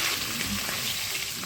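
Catla fish heads rubbed with salt and turmeric fry in mustard oil in a wok, giving a steady, close hiss of sizzling oil throughout.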